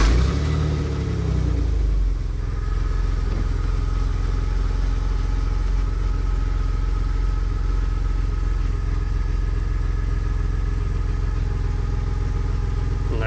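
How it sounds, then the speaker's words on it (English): A car engine with about 206,000 miles on it rumbles at a steady idle after a brief rougher cold start, a low continuous drone with no voices. "this is a cold start"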